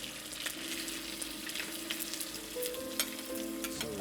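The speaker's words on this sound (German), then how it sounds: "Jetzt sind wir die Leber anbraten." Liver sears in warmed butter in a pan, a close, steady sizzle with crackling pops and brief stirring scrapes, fairly quiet and with no voices.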